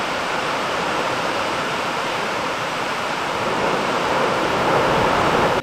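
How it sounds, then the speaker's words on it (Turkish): AI-generated waterfall sound effect: a steady, dense rush of falling water, loud and continuous with no voices, swelling slightly toward the end before a sudden cut. "bu şelale sesini de deneyip bitiriyoruz sonra"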